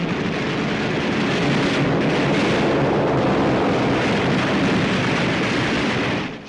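Wartime anti-aircraft flak fire from a warship against an attacking torpedo bomber, a dense continuous roar of gunfire and blasts, loud and unbroken with no voices.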